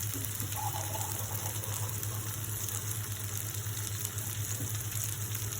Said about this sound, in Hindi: इसमें मैं थोड़ा सा पानी डालूंगी।